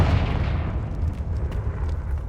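Deep, rolling blast of a Confringo spell in the video game Hogwarts Legacy, a sustained loud rumble with scattered crackling pops over a couple of seconds and no talking.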